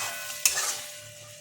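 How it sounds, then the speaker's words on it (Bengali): Sour yogurt being stirred into a hot wok for chicken biryani, a quick scrape of the spoon over a soft sizzle that fades away. "এবার আমি ভালো করে নাড়াতে থাকবো এটা।"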